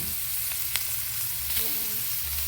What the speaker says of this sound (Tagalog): The onion, okay? I'm gonna cook the onion first.